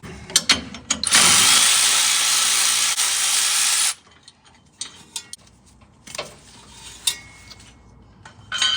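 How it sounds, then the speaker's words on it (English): Ratcheting clicks from a 10mm socket wrench loosening bolts on the brake line cover of a 2004-2015 Nissan Titan, a few close ticks followed by a loud sustained broadband burst, then scattered metallic clicks and clanks. "We're gonna be removing the little cover that goes over the brake lines with a 10mm socket."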